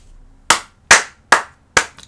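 Four sharp, close hand claps land at an even, deliberate pace, each crisp and loud, followed by a fainter trailing clap, with no talking.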